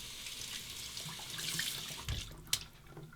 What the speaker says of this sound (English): We'll warm it up under the hot water.